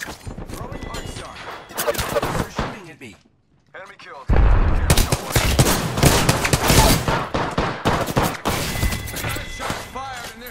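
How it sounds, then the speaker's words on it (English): Bursts of gunfire in Apex Legends, sharp shots and crashing impacts coming in clusters with a short silent gap, mixed with game sounds and a character voice. "Shots fired and they're hitting me."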